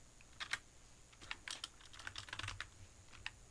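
Keys pressed on a computer keyboard for a shortcut, a short, quiet burst of separate clicking taps, close up and on their own.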